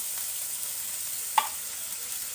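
Spicy Spanish-style sardines sautéing in a pan, a faint, even sizzle throughout, with a single short scrape or clink of a utensil partway through.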